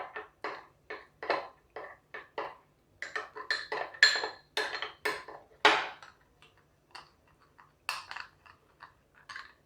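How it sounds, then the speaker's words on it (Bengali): A metal spoon stirring arrowroot into milk in a bowl, with a steady run of quick, close clinks and taps against the bowl, pausing briefly between bursts of stirring. "দিয়ে একটা চামচ দিয়ে এটাকে ভালো করে গুলে নেব।"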